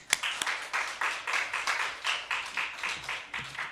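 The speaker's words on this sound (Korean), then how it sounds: "다시 한번 하나님께 영광의 박수 올립니다" Rhythmic, evenly spaced clapping from a church congregation repeats for several seconds, a modest group clapping in time rather than a roaring ovation.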